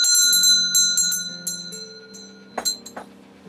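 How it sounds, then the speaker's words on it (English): A bell rung beside a restored 103-year-old Singer 66-1 sewing machine, giving several bright metallic strikes with long ringing decay, followed by a few sharper, quicker clangs near the end. "I'm going to ring the bell."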